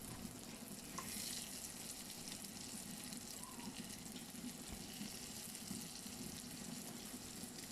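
Chorizo frying in a pan, releasing its oil, giving a steady soft sizzle with faint crackles throughout, heard close and alone.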